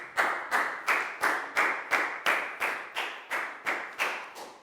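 Evenly spaced, rhythmic claps in a classroom, about eleven sharp beats at a steady pace, close and distinct, each followed by a short decay, with no voices.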